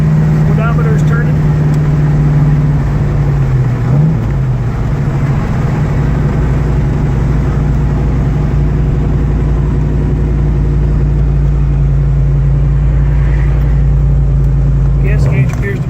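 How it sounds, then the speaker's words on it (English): A 1970 Chevelle SS engine hums steadily while driving down the road, a smooth, even low drone with a faint shift in pitch partway through, continuous and close throughout. "That sounds nice going down the road, doesn't it?"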